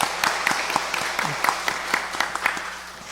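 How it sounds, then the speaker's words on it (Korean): A church congregation breaks into applause at the close of a Sunday worship service, many hands clapping in a dense, steady patter that lasts throughout, with a faint murmur of voices beneath. "우리 목사님 감사도 박수 한번 하실까요"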